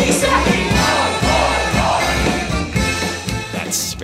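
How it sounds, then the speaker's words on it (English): Oktoberfest crowd in a packed beer tent chanting the Zicki Zacki, hoi hoi hoi cheer, loud massed voices in rhythmic bursts over music, close and continuous. "at the end when they go Zicki Zacki Zicki Zacki, hoi hoi hoi, Zicki Zacki Zicki Zacki"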